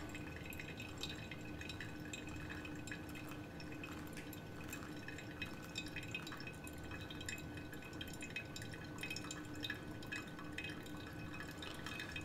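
Water poured steadily over ground coffee for a pour-over brew, a continuous trickling and splashing into a vessel, close and moderately quiet, with no one speaking.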